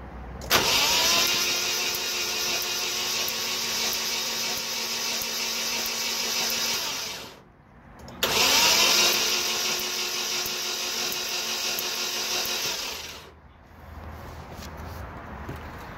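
A drift project car with fouled spark plugs runs in two long, steady droning bursts of about seven seconds each, separated by a brief drop, loud and close with no talking.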